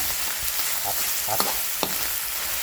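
Close-up sizzling of minced pork stir-frying in a hot pan, with a few scraping clinks of a utensil stirring at irregular moments.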